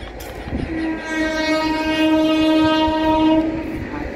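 A train at a railway station sounds a long, loud horn that holds one steady tone for about three seconds over the rolling clatter of rail cars, with no talk.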